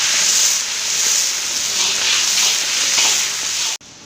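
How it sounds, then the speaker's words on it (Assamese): Ginger and green chilies fry in hot oil for a chicken masala gravy, a steady loud sizzle with hissing crackle that runs unbroken for nearly four seconds before cutting off abruptly. "এতিয়া এইখিনি ধুনীয়াকৈ ভাজি ল'ম"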